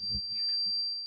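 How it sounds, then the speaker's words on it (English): A steady, high-pitched tornado alarm sounds continuously and fairly faint, with soft low murmurs underneath. "Yeah, the alarms are going off, guys."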